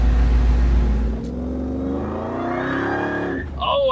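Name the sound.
Mustang supercharger blower whining while driving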